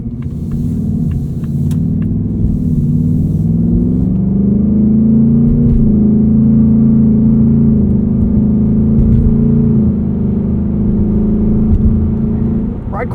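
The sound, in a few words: 2024 Ford Mustang GT engine while cruising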